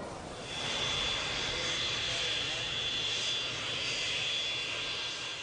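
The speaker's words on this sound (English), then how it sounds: "King Hussein of Jordan piloted his own plane to London." A steady aircraft engine drones without a break from a plane in flight, the propeller-engine tone staying loud and even throughout.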